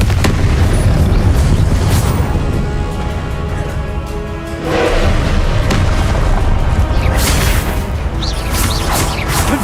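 Booming blasts from the Confringo fire spell in Hogwarts Legacy, loud and close, one big burst at the start and more later, with a roaring, rumbling wash between them.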